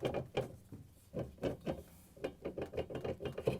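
An LG/Kenmore washer motor rotor is rocked back and forth and pushed onto its shaft, giving a series of short, close scraping and clunking bursts with brief quiet gaps, no voices.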